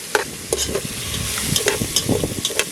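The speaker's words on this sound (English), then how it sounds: "we have to fry up the saltfish" Saltfish frying in a pan over an open fire for a Jamaican meal, giving a steady close sizzle broken by sharp clinks and knocks of stirring.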